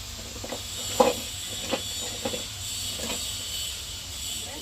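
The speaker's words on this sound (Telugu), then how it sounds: "పొయ్యి అయితే మంచిగా మండుతుంది." A home cooking stove fire burns with a constant soft hiss, broken by a few sharp crackling pops at irregular intervals, heard close with no talk.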